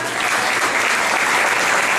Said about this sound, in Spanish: Lo recibimos también con un fuerte aplauso.